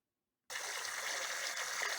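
Water starts flowing into a garden fountain being cleaned before summer, drawn from a deep well through a hose: a steady, soft trickling stream begins abruptly after a moment of silence and continues evenly, with no talking.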